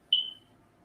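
Smoke detector giving a single short, high-pitched electronic chirp that fades quickly, faint against near silence.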